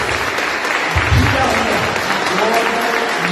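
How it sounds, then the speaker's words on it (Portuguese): A church congregation at a celebration service applauds for the Lord with dense, sustained clapping, and voices and cheers rise through the crowd noise. "Dê mais um aplauso ao Senhor."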